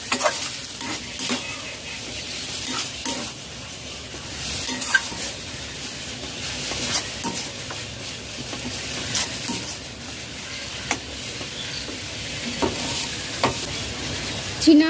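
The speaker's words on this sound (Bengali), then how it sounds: "ভালো করে নাড়াচাড়া করে মিশিয়ে নিতে হবে মশলা" Chilli powder, cumin powder and sugar being stirred into a sizzling mixture in a pan while cooking banana-flower (mocha) chops, with steady frying hiss and soft, irregular scraping strokes throughout, no talk.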